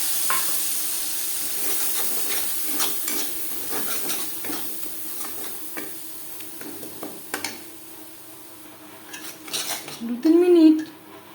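Coconut and green chili paste goes into a pan with cumin tempering for a vegetarian pointed gourd curry, with a scraping spoon, clinking metal and a light sizzle, and a louder scrape near the end.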